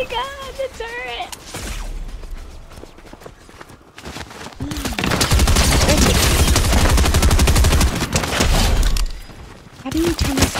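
A Fortnite turret fires in a rapid, steady stream for several seconds in a Zero Build squads match, loud and close, with a player's voice talking before and after the barrage.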